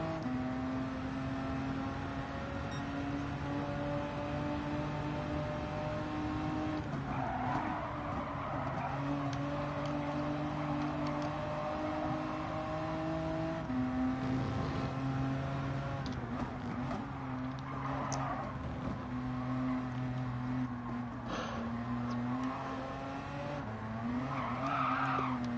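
A British Touring Car Championship race car on a qualifying lap at Dragon Trail in Gran Turismo 7 drones steadily at high revs, with gear shifts, pitch swells and tire squeal through corners.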